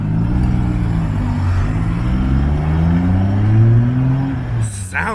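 Engine of a Nissan Skyline on BBS rims, a deep rumbling idle that rises in pitch as it revs and then drops away near the end, close and loud with voices briefly audible.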